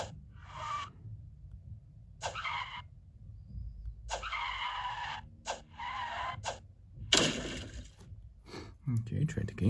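Video-game drift car tires screech and skid in several separate bursts, each lasting a second or two, with quiet gaps between and a long, louder squeal near the end.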